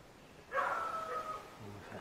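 A dog lets out a single faint, drawn-out bark or yelp at a distance near a Buddhist temple, Wat Wang Photikaram in Kanchanaburi, against quiet outdoor background noise.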